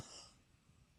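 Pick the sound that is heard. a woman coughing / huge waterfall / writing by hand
a woman coughing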